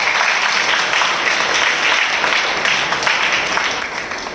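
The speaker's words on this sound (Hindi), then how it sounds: "हम जोरदार तालियों से उनका स्वागत करें।" A church congregation at a spiritual assembly applauding loudly to welcome a speaker, dense continuous clapping that stays strong and close before easing slightly at the end.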